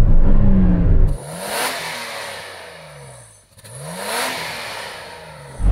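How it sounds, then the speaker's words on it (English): A stock Nissan Patrol SUV's engine is revved twice, each burst rising sharply then falling back to a rumbling idle, loud and close. "would you mind just revving up that standard Nissan Patrol, please?"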